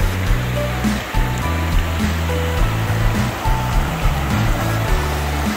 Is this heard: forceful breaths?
no